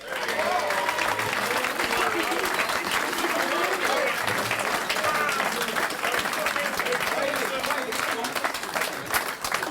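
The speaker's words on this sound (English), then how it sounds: "give them a big round of applause" A crowd at a football reunion event applauds as former players are introduced. Dense, sustained clapping carries at an even level for nearly ten seconds, with some cheering voices mixed in.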